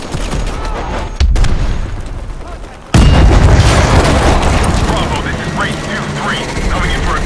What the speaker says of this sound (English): Pressure explosions. This place is going up.